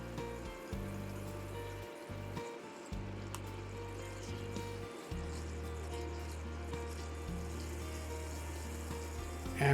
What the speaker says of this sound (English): While the shrimp scampi continues simmering